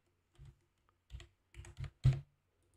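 Typing on a computer keyboard: a few separate bursts of key presses, close and fairly crisp, with short silences between them and a heavier clack near the end.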